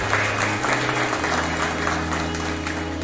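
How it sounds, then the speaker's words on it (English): An audience at a cycling achievement ceremony gives a sustained round of applause, dense hand clapping that fills the room evenly for several seconds without any speech. "I think we should all give one round of applause for him for that."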